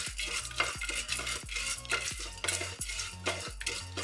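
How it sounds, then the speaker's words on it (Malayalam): A spoon stirring oil with salt and turmeric in a metal pan for popcorn, rhythmic scraping and clinking strokes about every half second, close and fairly quiet with no talking. "ഇത് നന്നായി ഇളക്കുക."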